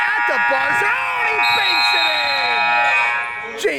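A sustained electronic buzzer blares at the end of the half in an indoor basketball game, holding steady for several seconds while an excited commentator talks loudly over it.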